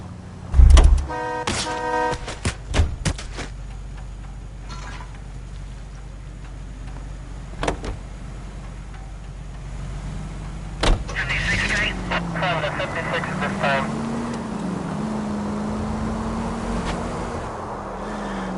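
A car drives in the video game L.A. Noire, with a door thud and mechanical clicks at first, then a steady engine hum that rises and falls as it pulls away, close and moderately loud.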